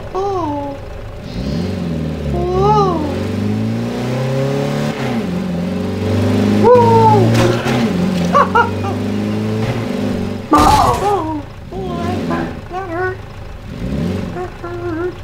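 A car engine revs and whirs while driving in a zombie apocalypse video game, its pitch rising and falling through gear changes, loud and steady with bursts of louder engine noise and someone talking over it at times.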